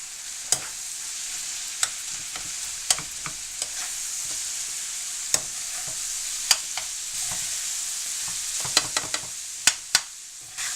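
Ground meat frying for lasagna in a pan, a steady high sizzle with sharp pops and scraping stir clicks scattered throughout, close and fairly quiet, no talking.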